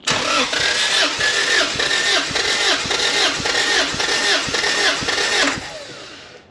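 A motorcycle engine cranks repeatedly during a compression check, with a fast, even, loud chugging rhythm of about a dozen strokes that stops abruptly near the end, leaving no talk.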